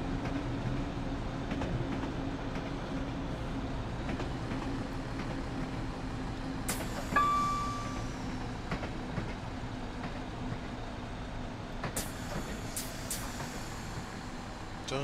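Inside a Class 172 diesel multiple unit running on the North London and Gospel Oak–Barking lines, a steady low rumble and rail noise persist, with brief squeals and clicks partway through.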